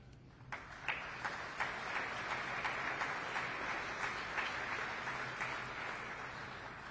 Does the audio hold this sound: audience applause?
yes